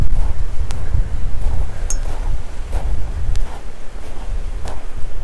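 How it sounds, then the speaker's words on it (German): Strong wind blows steadily along the shore of the Sea of Galilee, a constant low rumbling roar with gusty surges and buffeting against the microphone, no voices heard. "Viel Wind gibt es, ne?"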